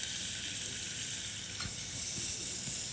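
Garlic and onion fry in a hot pan, giving a steady, close hiss of sizzling oil with a few soft stirring scrapes and light pops, quiet overall and without speech.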